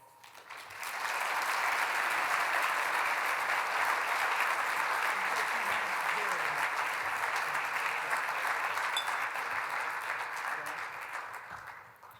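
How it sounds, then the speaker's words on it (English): Sustained audience applause at a Junior Achievement Business Hall of Fame awards event, a dense, steady wash of many hands swelling in after a second and fading near the end, loud and continuous without talk. "How about one more round of applause for all of our laureates and entrepreneurs tonight?"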